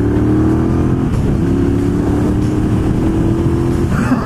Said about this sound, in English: The 1200cc Bonneville engine in the black is just a superb creation.